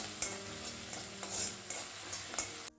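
Spring onion whites frying over high flame in a hot pan, a soft steady sizzle broken by a few sharp stirring clicks and scrapes, close and moderate, no voices.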